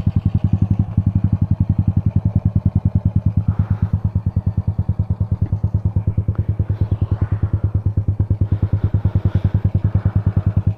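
A Honda Wave 100 motorcycle with an upgraded 53mm cylinder block, carburetor and performance camshaft runs at a steady, loud, close-up idle, its rapid even exhaust pulses thumping without a break.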